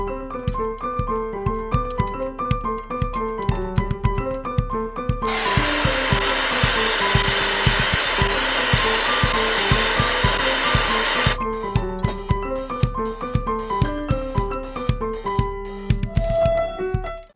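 Repeated rubbing and scraping as a stuck motorcycle brake caliper piston is twisted and pulled, a steady clicking rhythm with a louder grinding stretch in the middle, close and alone with no talk.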